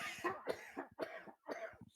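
Several harsh coughs come in quick succession, close and fairly loud, with short breaths between the bursts.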